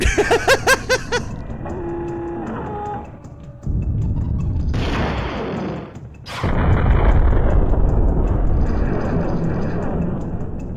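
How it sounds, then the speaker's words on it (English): Game explosions and weapon fire from Turok: Dinosaur Hunter on Nintendo 64 erupt in deep booming bursts, one around the middle and a larger blast followed by a long rumbling roar, preceded by sharp stuttering shots and electronic tones. "Straight up atomic bomb?"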